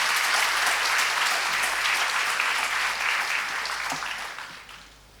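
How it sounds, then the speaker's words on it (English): A university ceremony audience bursts into sustained applause, dense and loud clapping from many hands that holds steady before tapering off near the end. "Can we have a huge round of applause?"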